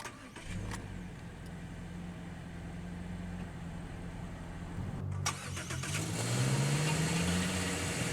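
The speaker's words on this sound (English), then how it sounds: "let's go ahead and start the engine" A 2021 Subaru Impreza Premium 5-door engine cranks and catches, settling into a steady low idle with a slight rise in revs toward the end, no voices.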